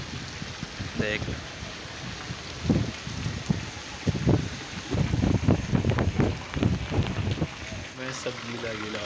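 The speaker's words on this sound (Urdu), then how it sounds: "اب بھی برس رہی ہے بارش" Heavy rain falling on Dubai, a steady broadband hiss that runs through the whole stretch beneath someone talking close to the microphone, with some wind buffeting.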